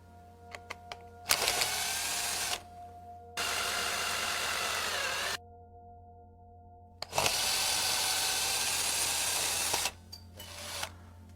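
A power drill backs screws out of a silicone injection mold for prosthetic liners, running in several sustained bursts of steady whine separated by pauses, with small clicks and handling sounds between runs, close and loud with no talk.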